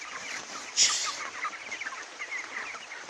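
On a poultry farm of about 650 broilers, 23 days old, the birds cluck in a soft, continuous chorus of small clucks, with one louder squawk standing out near the start.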